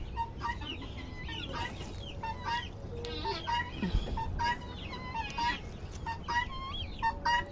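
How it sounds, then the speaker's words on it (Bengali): Backyard hens cluck and squawk noisily at close range in repeated bursts, with several birds calling over one another alongside soft rustling. "আর এই আমার মুরগিগুলো চিল্লা পাল্লা করতেছে"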